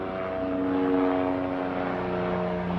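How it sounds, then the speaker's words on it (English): Propeller airplanes drone steadily overhead at night, a continuous engine hum with a broad rushing wash that stays even throughout, with no voices. "there's so many airplanes tonight"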